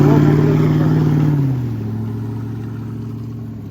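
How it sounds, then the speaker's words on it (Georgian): A passing car's engine hums loud and close, then its pitch drops and the sound eases as it moves away, with no talk over it. "ეს რაღაცა უცხო მანქანაა"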